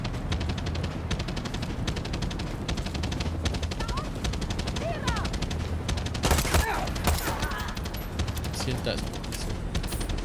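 Rapid automatic gunfire in the video game Far Cry 6, continuous fast bursts of shots with a louder burst midway, while someone talks over the shooting.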